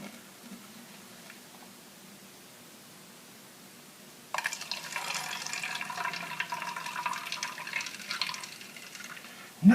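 Oil poured from a jar into another vessel, a steady liquid stream starting partway through and running continuously to the end, fairly close and alone.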